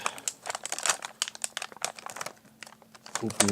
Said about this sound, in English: And take off the tape.